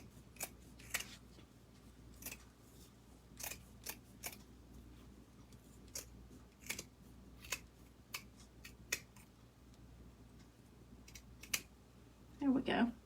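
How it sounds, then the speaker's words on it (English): Scissors trimming material for a DIY Christmas present with lights, a series of sharp crisp snips spaced irregularly over several seconds, quiet and close, with a brief voice near the end. "it's a lot longer, I'm gonna trim a little bit."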